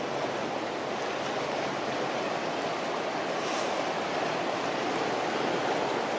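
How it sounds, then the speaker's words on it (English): A river rushes steadily past a big rock in elk country, a dense, even wash of flowing water that stays constant and fairly close throughout, with no voices. "Beautiful river space here."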